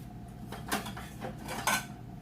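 Kitchen dishes and a separate bowl being grabbed while making blueberry muffin energy bites, a few close clinks and clatters of ceramic and cutlery, no talking.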